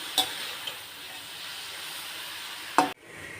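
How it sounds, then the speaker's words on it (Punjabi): Grated carrots stir-fried in ghee in a wok for gajrela, a soft steady sizzle with a spoon scrape near the start and a louder clatter of stirring near the end before it cuts off. "ਹੁਣ ਇਹਦੇ ਵਿੱਚ ਅਸੀਂ ਬਿੱਲੀ ਕਸ਼ ਕੀਤੀਆਂ ਹੋਈਆਂ ਗਾਜਰਾਂ ਪਾਵਾਂਗੇ ਹੁਣ ਗਾਜਰਾਂ ਨੂੰ ਅਸੀਂ 5 ਤੋਂ 10 ਮਿੰਟ ਜਿਹੜਾ ਆ ਉਹ ਕੜਾਈ ਦੇ ਵਿੱਚ ਹਿਲਾਵਾਂਗੇ"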